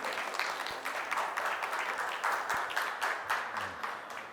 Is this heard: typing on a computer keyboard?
no